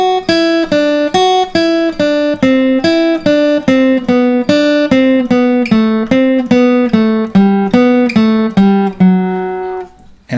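Guitar plays a major scale in four-note sequences running backwards, an even chain of clean plucked single notes descending step by step, close and alone, trailing off at the end.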